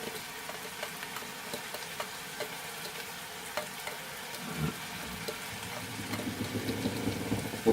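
Leeks, red onion and celery frying in a pan on a hob turned up full, a soft steady sizzle with faint stirring scrapes that builds slightly louder near the end.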